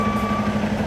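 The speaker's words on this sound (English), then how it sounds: "See how the truck's coming around that corner?" A truck reversing while being loaded, its backup alarm pulsing in a steady fast run of beeps over a constant diesel engine drone, loud and close with no voices.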